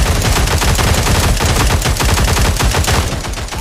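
Loud, continuous automatic gunfire from the futuristic PC shooter Cyber Hunter, rapid repeating shots packed tightly together at full volume with no pauses.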